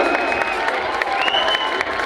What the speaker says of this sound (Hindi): जोरदार ताली लेडिज एन्ड जेन्टलमेन